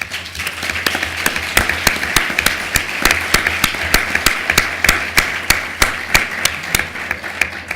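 A small conference audience in Madrid claps in steady, fairly loud, evenly spaced beats. The applause is close and carries on alone with no talking.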